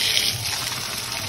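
Water running from a tap in a steady close gush, a bright continuous splash that fills the short moment alone.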